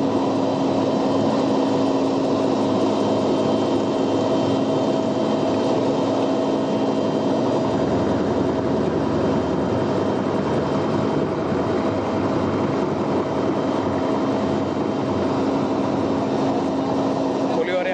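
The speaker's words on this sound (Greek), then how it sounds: "Είδαμε βέβαια πριν από λίγο στην εικόνα μας και πάλι ελικόπτερα επιθετικά τύπου Apache, και βλέπουμε και τώρα πάνω από το χώρο της παρέλασης." Apache attack helicopters fly over the October 28 military parade in Thessaloniki, producing a loud, steady rotor and engine drone that continues without a break throughout.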